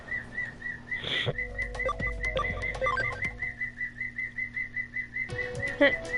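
Bird song in the video game Digimon Cyber Sleuth: a steady, repeating whistled chirp rhythm over soft game music, clear and close, with no talking.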